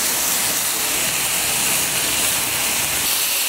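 Pork skewers (maekjeok) sizzle steadily on a grill over medium heat after being turned, a continuous close hiss with no talking.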